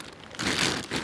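Plastic rain cover crinkling and rustling over a camera in damp woodland, a brief close scrunch of sheeting that swells and settles.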